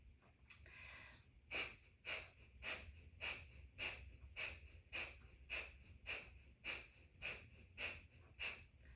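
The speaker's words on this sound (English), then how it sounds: "so that is breath of fire at a quick, powerful cadence" Breath of fire through the nose: rapid, forceful rhythmic exhalations, about one and a half per second, each a sharp nasal rush of air, close and alone.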